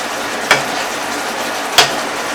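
Yellow croaker fish in a hot pan, a steady soft sizzle broken by two sharp utensil clacks as it is turned, close-up and without talk.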